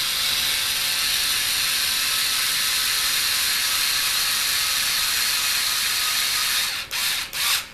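A Harbor Freight 4.8V cordless drill driving screws into an OFNA RC car differential gives off a continuous high whirring buzz that holds steady, then cuts out in several short stops near the end.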